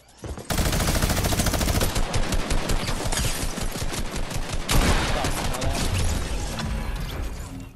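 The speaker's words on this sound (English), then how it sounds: "What do you have, a minigun?" Rapid automatic gunfire from a minigun in the video game Fortnite, a loud continuous rattling burst that runs nearly the whole time with brief dips in intensity.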